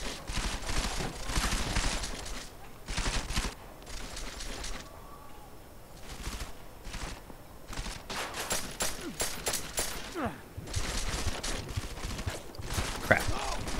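Gunfire in Deus Ex: Mankind Divided erupts in repeated loud bursts of automatic shooting, broken by short pauses, fairly close and harsh throughout.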